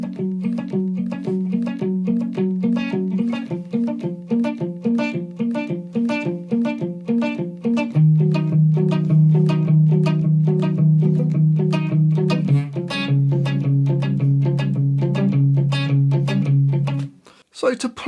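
Guitar plays the verse of a song in standard tuning: a rapid, steady picked pattern with a shifting bass note, loud and close, alone until a brief pause near the end.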